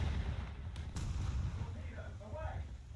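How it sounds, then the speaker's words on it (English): Naval mines firing guns at a ship during a War Thunder naval battle: dull, distant gunfire thumps and a couple of sharp cracks over a steady low rumble, with faint voice-like sounds near the end. "The mines have started shooting at me."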